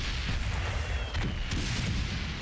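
Cannons fire in a French war video game, a few dull booms breaking through a dense, rumbling battle din.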